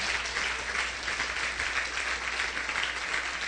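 Sustained applause from a church congregation during a worship service, a fairly faint, even wash of clapping that carries on without pause.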